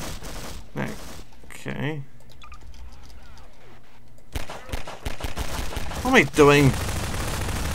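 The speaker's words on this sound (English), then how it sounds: "Or who's shooting? And what are they shooting at?" Bursts of gunfire from the video game Garry's-Life Source crackle in short clusters early on and again in a denser run near the end, with someone talking over them.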